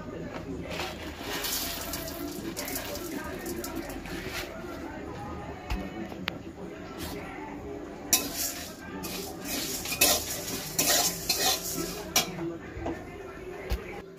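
Spices dry-roasted in a pan, with steady scraping and clinking of a spoon against the metal, continuous and close, under a faint sizzle and occasional clatter.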